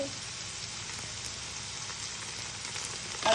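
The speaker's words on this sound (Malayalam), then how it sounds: "ഇതിലേക്ക് നമ്മളിനെ ജിഞ്ചർ ഗാർലിക് പേസ്റ്റ് ഇട്ട് കൊടുക്കുന്നു" Ginger garlic paste sizzling in a hot pan for egg curry, a steady, even hiss of frying that continues without a break, with a small clatter right at the end.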